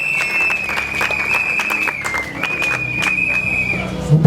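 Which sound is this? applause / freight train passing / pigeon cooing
applause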